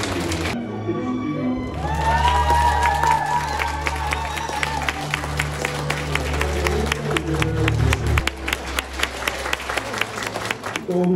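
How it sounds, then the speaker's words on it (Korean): Wedding guests burst into loud applause and cheering as the groom enters a Korean wedding hall, sustained clapping from a crowd over a low musical drone, with an announcer's voice at the start and scattered claps continuing afterward. "입장시 하객 여러분들의 큰 박수와 함성 부탁드리겠습니다."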